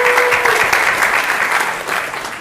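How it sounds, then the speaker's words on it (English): Audience applause welcoming remote Instagram viewers at a fermentation and modern gastronomy talk, steady dense clapping filling the room throughout, loud and close, with no voices over it. "You can clap for them to welcome them."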